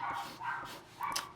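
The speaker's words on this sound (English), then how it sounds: "It's a neighbour's dog, if you can hear it on the recording." A neighbour's dog barks several times at a moderate distance, three or four short yelping barks spaced irregularly, heard alone without talk.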